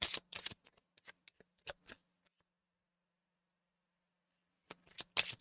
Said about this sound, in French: Les cartes, je préfère les mélanger devant vous, les prendre directement devant vous.